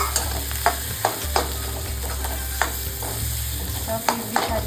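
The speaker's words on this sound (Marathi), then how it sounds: "हळद आणि आता त्याच्यामध्ये टाकणार बटाटे" Potatoes tumble into a pan of turmeric for a stuffed idli filling, sizzling steadily while a utensil scrapes and clacks in repeated stirring strokes, close and fairly loud, without speech.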